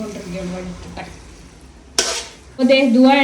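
Chili powder and turmeric powder frying and being stirred in a pan, with soft scraping and a sudden sizzling burst partway through, while voices talk nearby.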